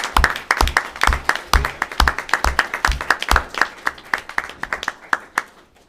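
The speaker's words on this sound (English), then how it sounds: "let's all give them a big round of applause for what they've done." Audience at a transit board of directors meeting gives a round of applause: distinct, fairly loud individual claps from a modest group, bunched at first and thinning out toward the end.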